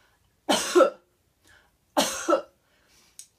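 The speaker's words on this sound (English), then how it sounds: "we're starting with a very automatic response, like a cough." Two sharp, forceful coughs about a second and a half apart, close and clear, with a faint short noise trailing at the end.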